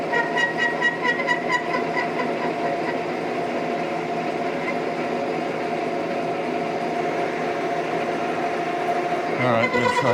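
Annular drill cutting steel on an MT3 adapter gives off a steady high-pitched squeal with tonal ringing over continuous machine grinding, heard close and alone for most of the stretch before a brief shift near the end.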